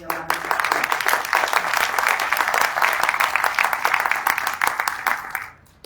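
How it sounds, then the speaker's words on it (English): Audience applause at an evening candlelight ceremony: a sustained, full round of clapping from a seated crowd that holds steady for about five seconds, then fades out quickly. "Can we give her and the team at NAMI a round of applause?"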